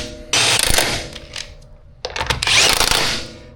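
Control arm bolts are tightened on a Subaru Impreza Outback with a ratchet, two bursts of rapid clicking ratcheting separated by a short pause, close and clear.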